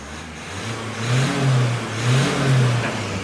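A common-rail diesel car engine starts, rumbles and revs up twice, rising and falling in pitch, heard close and loud with no talking.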